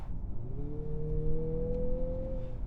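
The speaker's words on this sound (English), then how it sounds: "This is what the motor sounds like." A 2025 Mazda CX-50 Turbo engine revs up, its tone climbing steadily in pitch and then holding near the top, a close, moderately loud mechanical drone with no talking.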